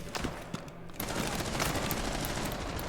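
Rapid bursts of gunfire in the video game Rainbow Six, crackling in dense volleys that grow louder and more continuous after the first second, with no voices over them.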